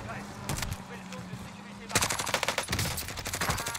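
Gunfire in the video game Warzone: scattered single shots, then a dense automatic burst in rapid succession, loud and close, with players talking over the game sounds.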